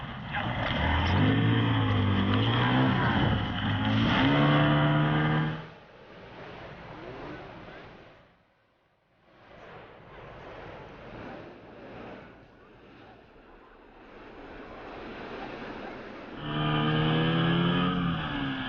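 An inflatable rescue boat's outboard engine revs loudly in the surf at Piha beach during a mass rescue, fading into a wash of waves and wind before roaring back up near the end.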